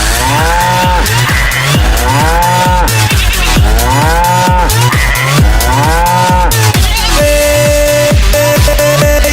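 Cattle at the Hazaribagh cow market lowing over and over, loud, deep, drawn-out moos overlapping in a dense, continuous chorus close by, with a busy crowd hum beneath and no clear talk.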